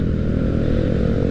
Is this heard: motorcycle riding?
yes